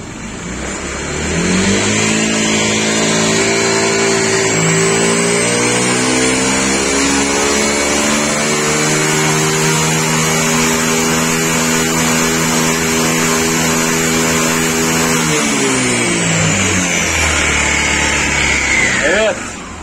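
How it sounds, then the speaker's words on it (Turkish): A Honda PCX scooter with its speed limiter adjusted revs hard and holds a loud, sustained high-speed roar near 150 km/h, pitch climbing and leveling as it runs flat out, then easing off. "Motorda son hız denemesi yapacağız."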